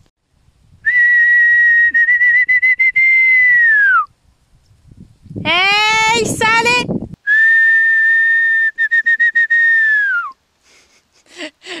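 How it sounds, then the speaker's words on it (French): Someone whistles to call horses in a field: two long, loud, rising-and-falling whistles with a shouted call between them, followed by faint short sounds at the end. "on va les siffler encore"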